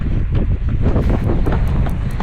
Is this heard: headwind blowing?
yes